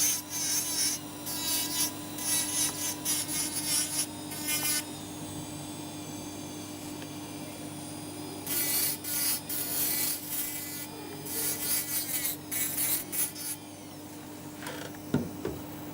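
Abrasive rasping and grinding on a lower denture tooth being trimmed, coming in bursts of a few seconds separated by pauses over a steady background hum, close and moderately loud, with no one speaking.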